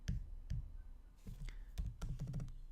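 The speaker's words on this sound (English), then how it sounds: "if I start typing" Sparse, irregular keystrokes on a computer keyboard while code is typed in Xcode, a few isolated taps followed by a quicker cluster of clicks, close and fairly quiet.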